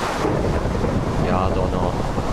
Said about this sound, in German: Ja, Donner.